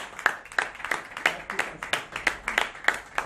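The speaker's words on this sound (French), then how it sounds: "Applaudissez-la quand même" Spectators clap at a prize-giving for a junior laureate of a family dictation contest. A few hands beat a slow, even rhythm of about three claps per second, close by, while a voice murmurs underneath.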